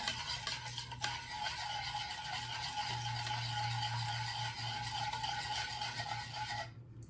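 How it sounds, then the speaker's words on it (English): A spoon stirs sugar into liquid for Vietnamese fish sauce with a steady, gritty scraping rasp that continues without pause, then stops abruptly near the end. "you want to mix it until it no longer makes that sound where the sugar is melting"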